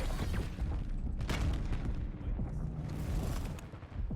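A frag grenade blast in the Black Ops 7 game's Domination mode on the Standoff map, a dense booming rumble that stays loud throughout with layered crackling bursts and a slight fade at the end.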